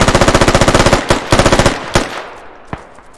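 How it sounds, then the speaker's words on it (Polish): Automatic rifle fire in the military shooter game Squad, a rapid loud burst of about a dozen evenly spaced shots, then two short bursts and a few isolated shots fading out. "Co, kto strzela?"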